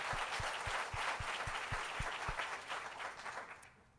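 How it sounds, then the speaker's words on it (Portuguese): A church congregation claps and cheers loudly, with a steady rhythmic thump in the first half, before the applause fades out toward the end. "Vamos aplaudir a Jesus então, do jeito que essa igreja sabe aplaudir"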